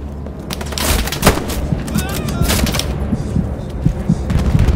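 Bursts of rifle and machine-gun fire crackle throughout a World War II battle in the video game Hell Let Loose, some shots near and some distant, with dull thuds mixed in under a busy combat din.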